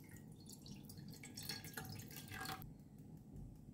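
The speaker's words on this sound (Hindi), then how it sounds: "तो एक पैन में डालते हैं पानी।" Water poured into a cooking pan before boiling kingfish pieces, heard as a close, quiet, steady trickle and splash, with no talking.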